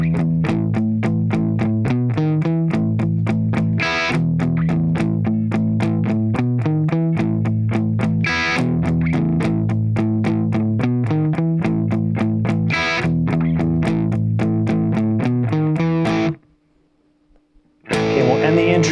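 Distorted electric guitar plays an intro riff, a loud driving strummed pattern repeating steadily before a brief pause and one final chord.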